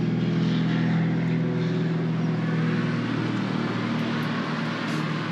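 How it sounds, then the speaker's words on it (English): An airplane passes overhead above an early-June rose garden, a steady, fairly loud engine drone that fades slightly toward the end. "sorry, it's a plane."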